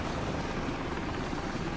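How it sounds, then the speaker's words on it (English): A helicopter in the game Contagion gives off a steady, loud rotor drone that fills the scene continuously and never fades or shifts in pitch. "there's a helicopter, but is it doing anything?"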